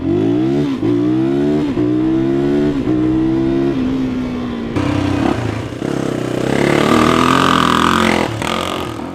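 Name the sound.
Honda XR 250R dirt bike engine revving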